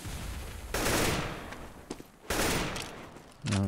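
Counter-Strike match gunfire comes in two loud rapid sprays of automatic rifle fire, each lasting about a second, with a few single shots between them and another burst at the end.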